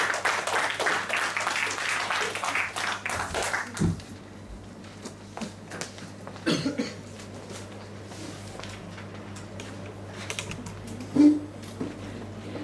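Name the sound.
audience applause welcoming a speaker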